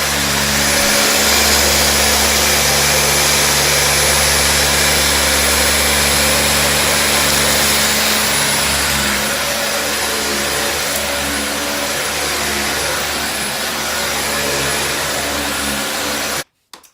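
A Dyson DC40 upright vacuum agitates carpet with its brush bar, a loud, steady motor whine and whooshing airflow held continuously up close before cutting off abruptly at the end.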